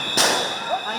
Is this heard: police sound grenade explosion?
yes